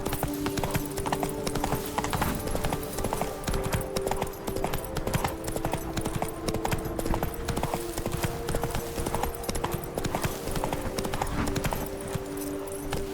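Horse galloping in The Witcher 3 video game, a steady rapid clip-clop of hooves throughout, loud and close over a low ambient bed, with faint game sounds and no clear talk.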